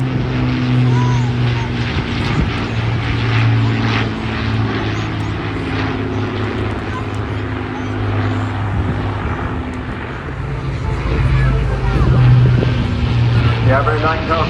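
An Avro Lancaster, the World War II Royal Air Force bomber, flies past at the Bournemouth Airshow with a steady drone of its piston propeller engines that swells toward the end, under continuous public-address commentary.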